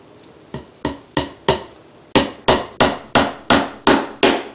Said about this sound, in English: you might have noticed all of my nails ended up on the floor while I was hammering